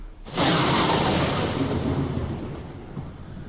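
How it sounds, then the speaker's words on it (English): A lightning strike's thunderclap bursts in loud and close, a broad roaring crack that rolls on and slowly decays over several seconds, with no talking. "Lightning."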